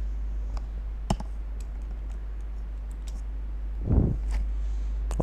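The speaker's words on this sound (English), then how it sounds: "left click on the mouse" Sparse computer mouse clicks while working in a Microsoft Excel spreadsheet, a few sharp isolated clicks close by over a low steady hum, with a brief soft rustle near the end.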